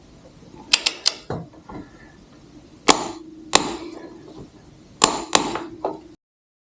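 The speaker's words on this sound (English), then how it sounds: "we'll now tighten the front wheel axle nut to the specified torque" Metallic clicks and clanks from tightening the front wheel axle nut of a Ducati Panigale V2 with a torque wrench, heard as three close bursts of sharp ratcheting clicks spaced by short pauses.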